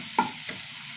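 Ginger, garlic and green chillies fry in a pan as they are stirred, giving one sharp scrape of the spoon followed by a softer clatter over a faint sizzle.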